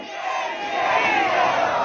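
A crowd at a Baloch political rally roars in a sustained chant, many voices shouting together loudly and continuously in a single swelling call.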